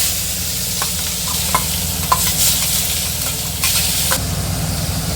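Onion paste sizzles steadily in hot oil, a close, loud frying hiss broken by a few sharp scrapes and clicks of a spoon stirring the pan, with no talking.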